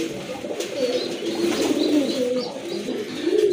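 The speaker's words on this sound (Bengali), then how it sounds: "এক জোড়া কবুতর দেখেন" A pair of black-and-white German Shein pigeons coo in soft, repeated low calls close by, steady throughout with faint chirps above.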